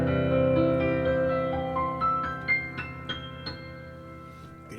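A rolling chord exercise on an instrument, alternating hands crossing over and under, with sustained harmonic tones and a series of distinct note onsets rippling upward, moderately loud and alone.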